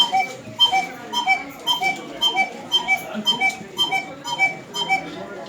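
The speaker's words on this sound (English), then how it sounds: "the most important thing for the cuckoo clocks is the cuckoo sound which we're getting from these wooden air bells" Wooden air bellows in a cuckoo clock whistle a steady run of paired, hollow two-note cuckoo calls, repeating evenly and fairly close.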